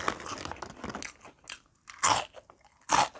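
Bites into crunchy Calbee tom yum shrimp crackers: close, loud crisp crunches, with softer crackly chewing at first, then two sharp bites near the end, and no talk.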